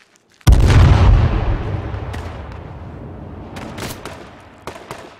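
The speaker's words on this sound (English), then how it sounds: "They threw a grenade, pull back." A grenade blast in the battle royale game H1Z1 King of the Kill hits suddenly with a heavy low boom, then rumbles and fades over several seconds, followed by a few faint scattered pops.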